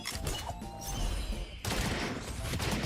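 Boothill firing at every enemy in a Honkai: Star Rail battle, a dense rapid fusillade of gunshots with crashing impacts layered over game music, loud and continuous for about three seconds.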